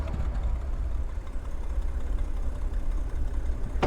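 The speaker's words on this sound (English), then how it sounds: "Holding E starts the engine." Recon tank engine in the Hell Let Loose video game idling steadily after starting, a continuous low rumbling drone with a slight knock, heard alone at moderate loudness throughout.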